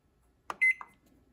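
A Zojirushi Home Bakery Supreme bread machine starting up gives one short, clear electronic beep tone, preceded and followed by quick button clicks, close and isolated in a quiet kitchen.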